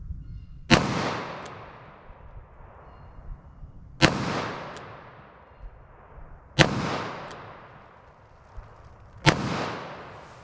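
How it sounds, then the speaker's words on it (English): Four evenly spaced handgun shots are fired at a target on a range, each a sharp, loud crack with a short echoing tail, separated by quiet pauses of about three seconds. "if I can make a bullet hole, then I will try to aim on that hole after for the subsequent shots"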